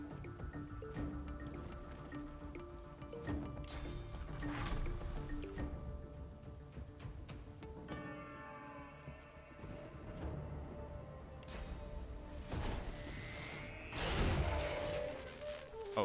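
Rain falls steadily in a video game, a soft continuous patter with drips, laid under game music and scattered effects, with a brighter splash of sound near the end.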